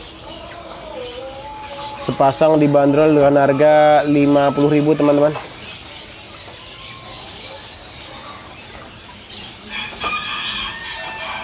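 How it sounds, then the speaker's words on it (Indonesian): Zebra finches in a stall at Pramuka bird market give small high chirps and tweets, mostly faint and scattered, with a brighter burst near the end, while someone talks loudly over them. "berikutnya ini ada juga stok burung zebra fin"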